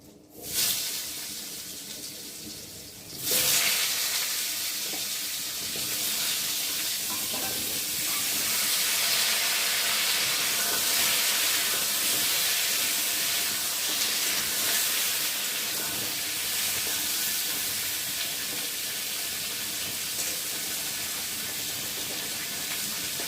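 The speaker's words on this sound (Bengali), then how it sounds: "পেঁপে আর আলুটা একটু ভেজে নেব।" Papaya and potato pieces fry in oil tempered with whole cumin, a sudden loud sizzle that settles into a steady, dense hiss and crackle lasting the whole stretch, close by and without talk.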